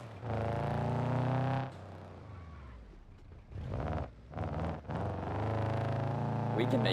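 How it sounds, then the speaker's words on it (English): A tuned-up race car engine in a video game revs hard and near, its harmonic drone rising and falling across several long pulls with brief dips between, continuous and loud. "Car sounds a little more aggressive now."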